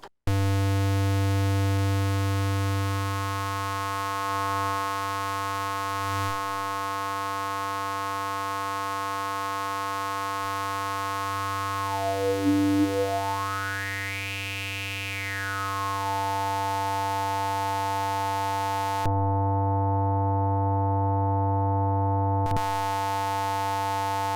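A Behringer 2600 synthesizer's oscillator 1, routed through an inverter, holds a steady buzzy tone. Partway through, one harmonic-rich layer sweeps down and back up in pitch, and the sound then settles and cuts out briefly near the end, with no voices.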